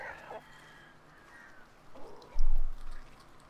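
A rooster in a rural setting from the Tamil film Kottukkaali crows faintly and at some distance at the start, its call rising and falling, followed by a quieter bird call and then a burst of low rumbling noise.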